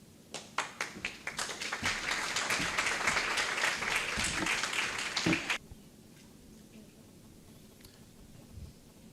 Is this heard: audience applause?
yes